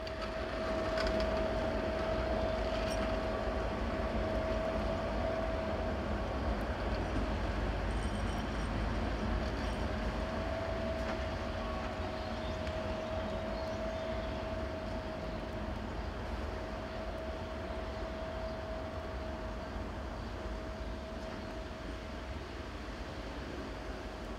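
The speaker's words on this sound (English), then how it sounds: "ST441227 had arrived in the yard with a short trip working and was running around its train" In a yard, a freight locomotive runs around its short trip-working train. A continuous, moderately loud engine drone holds one steady whining tone, heard from some distance with no voices.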